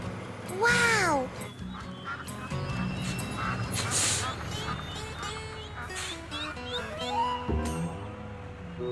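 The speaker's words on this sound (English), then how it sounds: "Duck crossing?" Cartoon ducks quack in short nasal bursts near a roadside sign, mixed with bright animated voices and music that dominate much of the scene.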